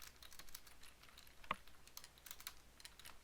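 Soft, rapid keystrokes clatter on a computer keyboard, quiet and close, with one slightly louder key press in the middle of the run.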